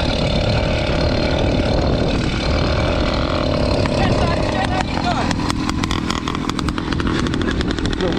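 A motorcycle engine is being started and runs with a steady, close, rough drone, with people talking over it.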